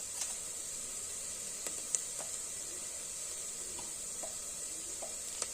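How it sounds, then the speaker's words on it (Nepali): Finely chopped onion frying in a pan after garlic while cooking moong dal khichdi, giving a steady, fairly quiet sizzle with a few soft clicks and stirring taps, and no talk. "प्याजलाई पनि एकैछिन फ्राई गर्नुपर्छ।"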